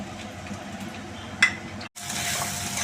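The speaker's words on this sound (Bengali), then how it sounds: "প্রথমে আমরা রসুনটা ভাজবো।" Garlic fries in a pan of oil with a steady, moderate sizzle, one sharp clink midway, a brief drop to near silence, then a brighter, louder hiss.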